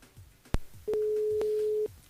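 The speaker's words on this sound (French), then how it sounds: "Allez, c'est parti, on appelle Flora" Telephone line tone heard while a radio host dials a caller, a click followed by a steady electronic tone lasting about a second, quiet and alone.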